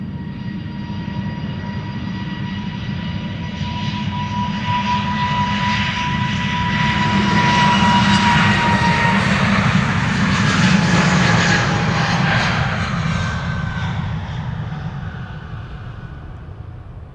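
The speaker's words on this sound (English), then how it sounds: "it is time for EasyJet flight 22162 to Person-Chester to take off" An EasyJet Airbus A320neo jet takes off at Amsterdam Schiphol, its engine roar swelling from a whining rumble to a loud peak midway, then easing off as it climbs away.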